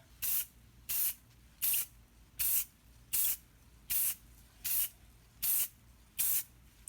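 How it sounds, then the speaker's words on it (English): Spray paint is applied lightly over a stencil from about a foot away: roughly ten short, soft hissing bursts in an even rhythm, separated by quiet pauses. "Very light spray, a foot away."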